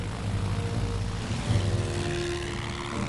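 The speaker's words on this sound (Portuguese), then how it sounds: "o porta-aviões HMS Ark Royal enviou uma segunda onda de aviões, torpedeiros britânicos Swordfish." British Swordfish torpedo bomber biplane droning overhead, a steady propeller-engine hum with a continuous low rumble that holds at an even, moderately loud level throughout.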